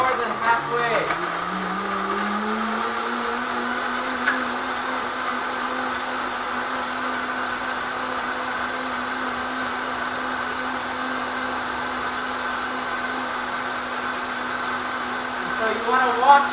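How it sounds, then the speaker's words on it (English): Countertop blender mixing a smoothie, a steady motor whine that ramps up in pitch over the first two seconds and then holds an even, loud drone, with a brief shift near the end. "the blender, and you want to make sure that every little chunk is blended thoroughly"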